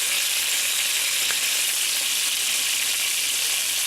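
Pork chops sizzling hard in a pan, a dense, continuous hiss of frying fat that stays loud and even from start to finish.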